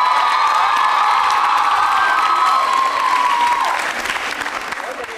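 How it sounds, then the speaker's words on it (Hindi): An audience at a college quiz show with students from Tagore Girls and Bhawani Niketan colleges bursts into sustained applause and cheering, a dense, loud roar of clapping with shouts and whoops, easing slightly toward the end. "तालियां जोरों से बजाइए"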